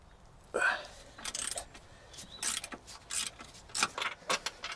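A 13mm socket wrench works a suspension bolt on the anti-roll bar of a small VW-group hatchback, producing quiet, irregular ratcheting clicks and metallic clunks in short bursts, close by.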